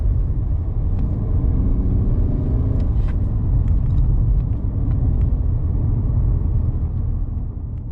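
A manual-transmission car engine rumbles steadily while the driver downshifts quickly, a continuous low drone with a few brief rising revs, heard from inside the car with no talking.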